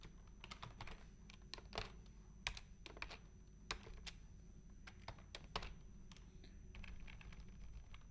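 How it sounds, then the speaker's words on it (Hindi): Quiet, irregular clicking of keys on a computer keyboard as a date is typed into an MS Word document, with short bursts of keystrokes over a low steady background hum and no talking. "यहाँ पे हमने अपनी डेट टाइप कर दी है।"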